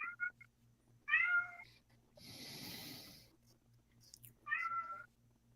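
A cat meows up close three times, with short nasal calls at the start and end and a breathy, snorting sound in between.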